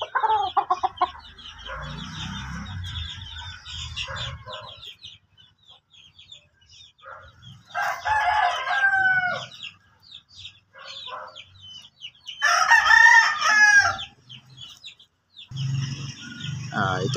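Several crows and clucks from a nine-month-old gamecock rooster, a kelso cross bred for derby fighting, come in loud bursts separated by near silence, with low grunting clucks at the start and end.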